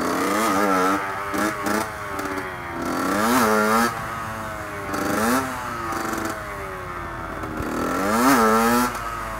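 Low-powered motorcycle revving hard in first gear during wheelie practice, several rising engine pulls that climb in pitch and drop back between throttle bursts, loud and close.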